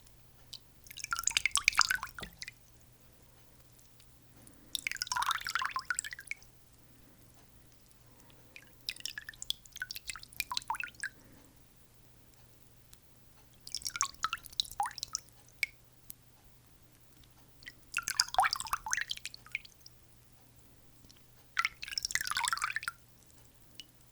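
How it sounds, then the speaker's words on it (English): Water trickles and splashes down from cupped hands in six separate bursts, each a few seconds long, with quiet pauses between them. "scooping my hands"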